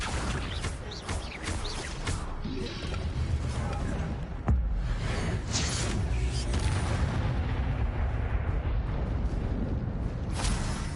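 Incendio fire spell cast in Hogwarts Legacy, a dense roaring burst of flame and magical crackle amid continuous game effects, loud and sustained with a sharp boom midway.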